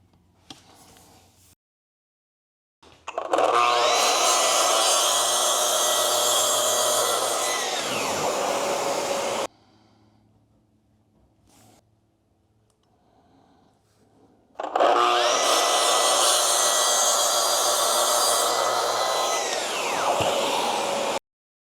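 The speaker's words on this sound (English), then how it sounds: "with my track saw, cut the plexiglass and the hardboard" A track saw cuts through plexiglass and hardboard in two long passes, each a loud, close whine that spins up, holds steady for several seconds and winds down, with a quiet pause between them.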